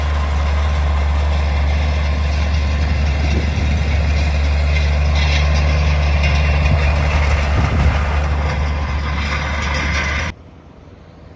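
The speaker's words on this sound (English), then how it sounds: "This is that engine." A JCB Fastrac tractor engine idles close by with a loud, steady droning rumble that holds evenly for about ten seconds before abruptly cutting down to a quieter background hum; no one talks.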